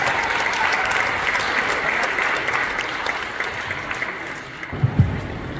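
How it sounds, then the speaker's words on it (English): An audience at a Montreal fundraiser for Gaza applauds with dense, sustained clapping that fills the room, thinning slightly toward the end, with no clear speech over it. "So please give him a round of applause."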